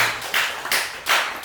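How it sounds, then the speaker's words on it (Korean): Congregation clapping during a church sermon: three quick bursts of hand claps, each fading, fairly close and with no voices over them. "박수 한번 치세요."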